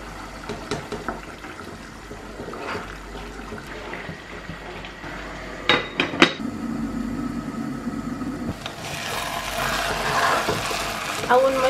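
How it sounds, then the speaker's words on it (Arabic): Broth is poured over rice in a pot, a steady close wash of liquid running for several seconds with a few sharp clinks partway through and a brighter rushing splash near the end. "نسقيه بقى بالشوربه."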